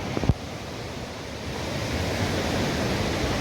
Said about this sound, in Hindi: ये देखिए, ये है अलकनंदा नदी जो बद्री धाम से आ रही है